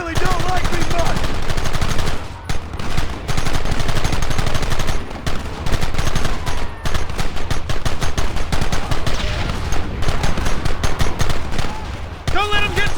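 Dense rapid gunfire from the Red Dead Redemption video game, loud and continuous with bursts of shots and brief pauses, mixed with game voices shouting over the shooting.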